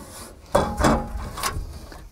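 RV power cord being wound by hand into a MORryde EasyReel storage reel in a motorhome compartment, giving a few rubbing, knocking bursts close by.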